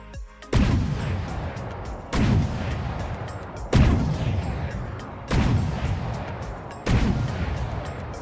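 A turret cannon test-fires in the video game From the Depths, sending out five heavy booms at an even pace about a second and a half apart, each with a rumbling decay and no voices.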